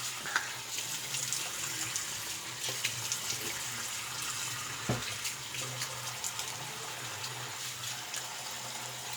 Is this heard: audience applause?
no